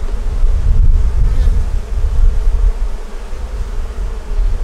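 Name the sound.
honey bees at the hive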